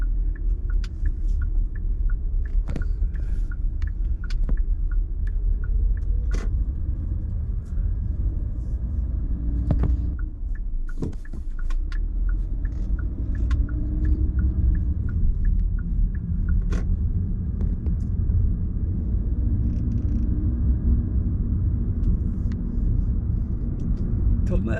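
A continuous low rumble of road traffic near a riverside carries on throughout, with occasional sharp clicks and knocks, while people talk over it.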